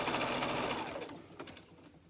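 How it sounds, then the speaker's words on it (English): A Baby Lock Allure sewing machine stitches in a fast, whirring run that slows and fades in the final second, heard up close with no talking. "So I'm sewing on my Baby Lock Allure"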